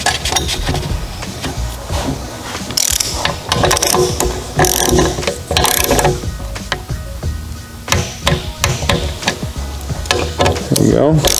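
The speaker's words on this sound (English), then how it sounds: "It's a very small torque wrench, usually a 3/8 drive, and it will click very softly" Small 3/8-drive torque wrench clicking softly while bolts are tightened on a Magnuson TVS2650 supercharger on a C7 Corvette, a busy series of close mechanical ratchet clicks under occasional speech.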